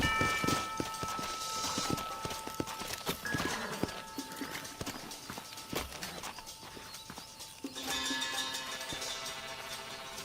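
Horses clip-clop steadily at a walk in the Western video game Red Dead Redemption, close hooves in an irregular rhythm over tonal game music, with no talk in this stretch.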